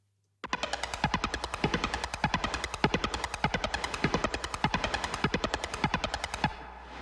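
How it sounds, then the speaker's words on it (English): Rapid synth arpeggio built from a circuit-bent sample, shaped with pitch and filter envelopes and heavy compression, pulsing in a fast steady stream of bright, percussive notes for several seconds before cutting off. "I then made the arpeggiator by taking another part of the sample"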